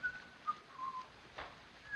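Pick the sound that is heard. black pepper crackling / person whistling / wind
person whistling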